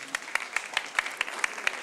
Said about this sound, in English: But now clap for me, eh?